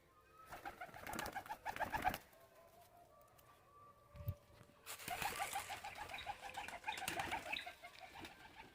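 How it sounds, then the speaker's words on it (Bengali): Pigeons released from a village rooftop: soft cooing and bursts of wing flapping, loud and close in two main flurries with a quieter pause between. "ওই যে পায়রা। আবার একটু উড়িয়ে দেখাচ্ছি"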